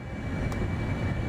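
A brief, steady jet engine roar from an IndiaFoxtEcho F-35B Lightning during a short takeoff in MSFS 2024, constant and moderately loud with a faint tonal whine.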